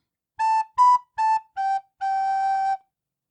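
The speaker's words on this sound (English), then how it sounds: "Using my recorder, it sounds like this." A recorder plays a short melody of five clear notes, the first four short and detached at a steady pace, the last held longer on a lower pitch, alone and close.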